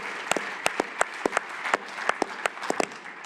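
An audience at an orthopaedic fireside talk gives a round of applause, a dense steady patter of many hands with sharper individual claps standing out, fairly close and without speech.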